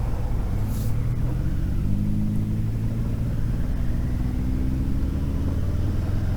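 A 2020 Harley-Davidson Fat Boy 114 pulls away from a red light, its deep engine rumble rising steadily in pitch under constant wind noise.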